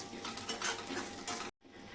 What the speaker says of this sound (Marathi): आपण लालसर होईपर्यंत परतून घ्यायचं कांदा खोबरं छान भाजून घ्यायचे